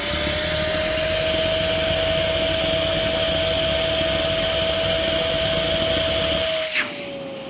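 A Riccar R30D vacuum cleaner runs loud and close during a suction airflow test, a steady roaring whine holding constant before it switches off near the end and the pitch drops away quickly.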